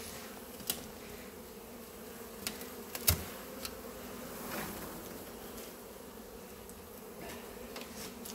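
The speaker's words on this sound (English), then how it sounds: "Very small black bees." A swarm of very small black bees buzzes in a faint, steady drone, with a few brief ticks and knocks of equipment.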